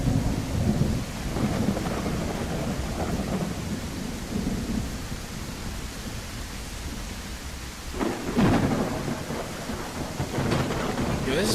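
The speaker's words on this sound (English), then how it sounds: "This has been a hell of a rainstorm." A heavy rainstorm pours down in a continuous wash of rain while thunder rumbles low and long, with sharper cracks of thunder near the end.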